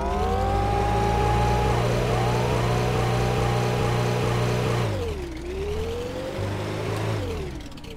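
A Tesla car in a video game drives with a loud, steady engine-like whine whose pitch slides up and then drops sharply midway before climbing again, continuous and close with no talk.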